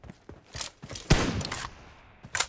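Mobile team deathmatch game gunfire played out as scattered bursts and single shots of varying loudness, with brief clicks and quieter gaps between them, and no voices.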